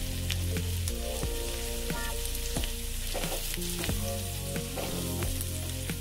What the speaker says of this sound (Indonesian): Kita tumis sampai bawang bombaynya harum dan juga sedikit layu. Dan selanjutnya boleh kita masukkan bawang putih cincangnya.